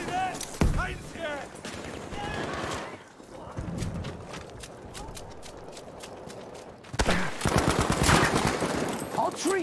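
Rapid automatic gunfire in the Battlefield 5 video game on the Rotterdam map, bursts of shots crackling through the mix with a heavier burst near the end, while players talk over the action.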